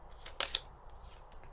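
Tarot cards shuffled by hand in a few quick, soft papery riffles and slaps, close and quiet against a faint room hush.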